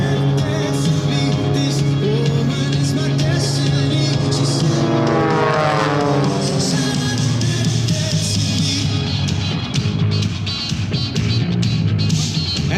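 Aerobatic formation aircraft flying a parallel loop at the NAS Jacksonville air show, a loud continuous propeller engine roar with a sweeping pitch shift midway and crowd noise underneath.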